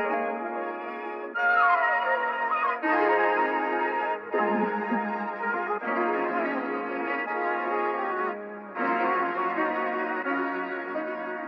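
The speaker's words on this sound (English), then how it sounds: "I have like a halftime effect doing a little bit of EQing, and then I got some different vinyl distortion effects." Transposed music sample slowed with a halftime effect and vinyl distortion, muffled melodic phrases with clear gaps between them, played alone at moderate loudness.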